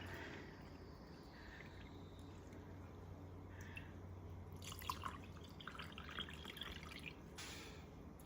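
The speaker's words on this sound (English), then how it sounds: "we're gonna go ahead and put some water into both of them" Water poured into soil sample containers gives a faint, soft trickle with scattered drips over quiet background hiss, with a few slightly louder splashy moments near the end and no talking.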